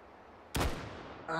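Gunfire from a weapon in the VR shooting game Hot Dogs, Horseshoes & Hand Grenades: one sharp, loud shot with a decaying tail, followed shortly by a tonal mechanical sound, with no talk.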